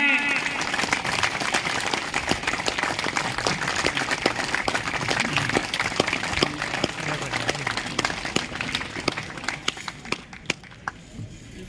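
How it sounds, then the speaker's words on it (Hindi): Crowd applause and clapping at an outdoor farmers' land-reform rally in Bhattu, sustained and dense, with talk mixed in, thinning out near the end. "तालियां बजती रहनी चाहिए"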